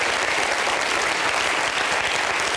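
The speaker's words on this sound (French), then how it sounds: "Vous avez raison d'applaudir." Loud, dense studio audience applause fills a French television talk show set, continuous and even from start to finish with no voices over it.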